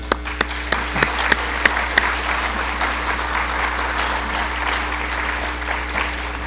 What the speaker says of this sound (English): I'm asking if we can all give them a round of applause